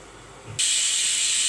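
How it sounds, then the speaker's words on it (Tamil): A pressure cooker whistles while cooking ven pongal, a loud, steady, high steam hiss that cuts in abruptly and holds on. "பாருங்கள், பொங்கலுக்கு 3 விசில் வந்துருச்சு."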